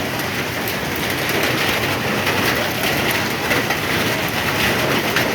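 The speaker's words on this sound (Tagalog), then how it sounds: "So tingnan nyo naman, umuulan na naman." Rain falling steadily outdoors, a dense, even hiss of drops with faint pattering texture, continuous and unchanging throughout, with no voices.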